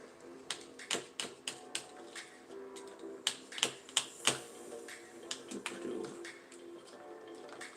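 Wires being trimmed during a hand build, a series of crisp, close snips and clicks that come in irregular bursts.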